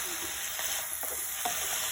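Chicken pieces sizzle in a hot pan on high flame for a Kerala-style chicken rice, with a steady frying hiss and a few scraping stirs of a spoon.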